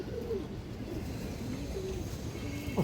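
A female pigeon coos softly, a few low, gliding calls heard faintly over a steady background hum.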